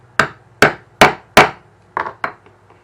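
Six sharp hammer blows set a snap socket onto a leather holster: four evenly spaced, ringing strikes, then two lighter taps, close and loud with no talk.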